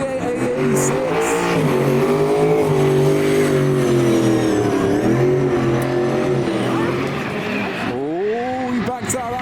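A V8 engine in a car at a motorsport show revs loud and close, rising and falling in pitch. Someone talks over it near the end as the engine drops and climbs again.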